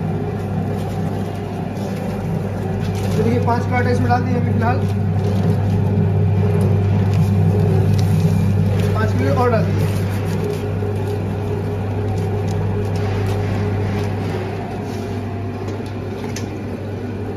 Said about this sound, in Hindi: ये ऑटोमेटिक मिक्सर मशीन है,